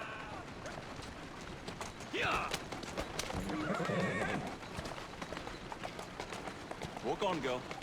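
A horse in the game Assassin's Creed Syndicate whinnies twice with shaky, rising neighs over steady clip-clopping hooves, close and moderately loud, with a person talking now and then.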